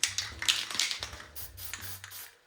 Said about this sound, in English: I'm just kind of spraying everything.